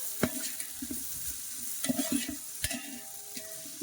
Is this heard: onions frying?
yes